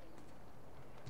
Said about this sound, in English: Okay, this must be the pigeon coop.